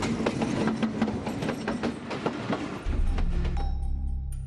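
A train runs on the India–Bangladesh connecting line near the border, with rhythmic clickety-clack of wheels over rail joints passing close by, then giving way to a low rumbling engine hum.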